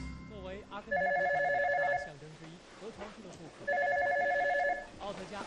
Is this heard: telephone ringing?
yes